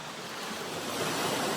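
A waterfall at a campsite produces a dense, continuous broadband rush of falling water, steady and fairly close, slightly swelling toward the end, with no voices.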